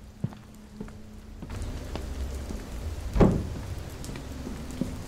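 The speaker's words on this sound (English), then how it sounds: "Dang, it's really raining a lot," Steady rain patters across surfaces in the video game Fears To Fathom, a soft continuous wash that thickens after the first second and a half, punctuated by a few isolated knocks and one louder thump.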